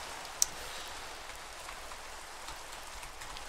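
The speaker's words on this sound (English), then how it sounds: "And now we have rain." Rain falls in the video game Minecraft, a soft, even hiss of steady rainfall with one brief sharp tick near the start, faint and continuous with no talking.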